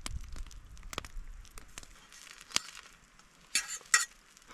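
Pancake mix and water squished and kneaded inside a sealed plastic bag at a winter bushcraft camp, heard as soft irregular crinkling and slushy rustles with a couple of sharper plastic crackles near the end, alone with no talk.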